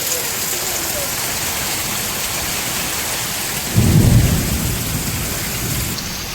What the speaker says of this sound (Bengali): এই দেখুন কেমন বৃষ্টি পড়ছে